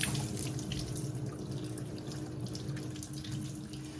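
Tap water pouring steadily into a kitchen sink to soak vegetables, a constant close splashing rush with faint drips and no talk.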